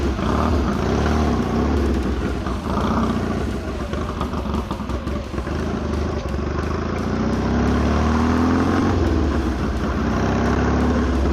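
A Triumph Desert Sled motorcycle after a top-end rebuild, its engine running at a steady, fairly quiet idle with light mechanical clatter, close by and without talk.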